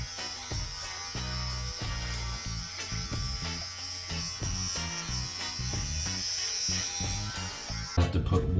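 YiLFo electric hair clippers buzz continuously while cutting hair during a Viking-style haircut, a steady close whine with small crackles as strands are trimmed, changing character at the very end.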